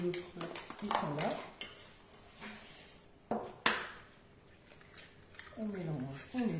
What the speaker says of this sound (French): On mélange déjà un petit peu à la cuillère magique.